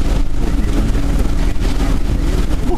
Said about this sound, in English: The wind is really, now it's about 100 miles an hour.